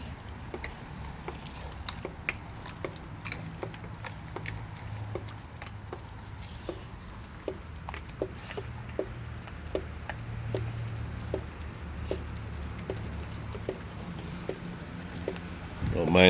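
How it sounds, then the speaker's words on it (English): Water drips steadily in a quiet room, faint sharp little plinks at a roughly even pace, over a soft low background hum, with a voice murmuring in places. "Don't mind the sound of the dripping water"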